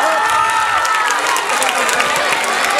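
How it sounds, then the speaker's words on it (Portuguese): Crowd applause and cheering for a grandmother at a community social-action event honouring mothers and children, a dense steady roar of clapping with shouts mixed in throughout. "da qual eu queria pedir uma salva de palmas"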